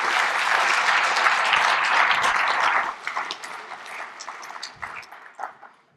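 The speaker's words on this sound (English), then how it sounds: "Can we have a big round of applause for him when he comes up?" A conference audience applauds a network engineer as he comes up to speak, with dense sustained clapping that thins into scattered claps after about three seconds and fades out.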